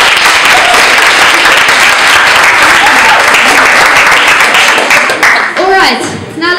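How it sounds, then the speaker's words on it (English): Loud, dense applause from a student audience at a university SRC candidates' interrogation event, sustained clapping filling the room, with a voice breaking in near the end. "can we get one more round of applause for the candidates this evening?"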